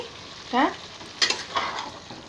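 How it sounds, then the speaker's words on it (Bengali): Food being stir-fried in a pan, with a soft background sizzle broken by a few close scrapes and clatters of a spatula stirring. "ভালো করে কষিয়ে নেব।"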